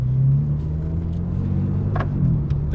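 A BMW M4 CSL engine rumbles low and steady at idle while warming up, heard from inside the car with a slight swell in revs near the end.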